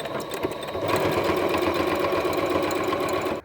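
A sewing machine stitches a fabric belt casing, its motor starting about a second in and then running as a steady, close, continuous rapid whir until it stops abruptly at the end.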